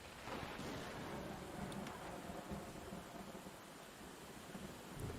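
Low thunder rumbles through a steady rain and storm wash, loud and continuous for the whole stretch with no voices.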